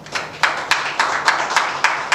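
A small group claps in a steady, quick rhythm, with evenly spaced, fairly loud claps in a room, applauding a company.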